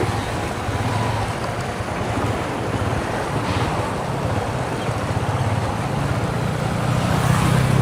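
Floodwater rushes in a steady, loud roar during cyclone rain, a continuous broadband wash of flowing water with wind buffeting the microphone throughout.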